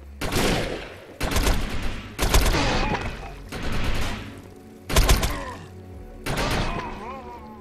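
A rifle fires in the sci-fi shooter game Defiance in about six loud, close bursts of rapid shots, each separated by a short pause. A voice may be talking briefly at points.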